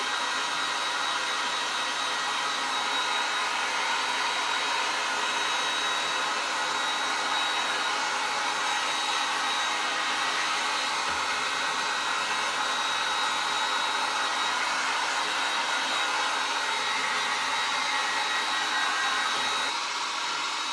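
A hair dryer blows steadily to dry craft paste on a wood fire cracker project, a loud unbroken whooshing drone running throughout with no talking.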